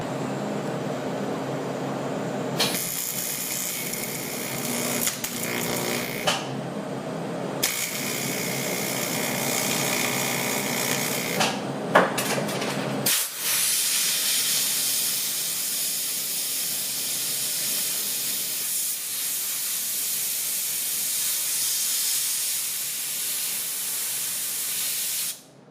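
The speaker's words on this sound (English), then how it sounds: "Now the trick is going to be welding that quickly enough so the glue doesn't melt." A weld joins a bracket to a 1976 Mazda RX-5 Cosmo during a gauge cluster conversion, heard as close, steady hissing and crackling that stops and restarts in several bursts, then gives way to a softer, even hiss.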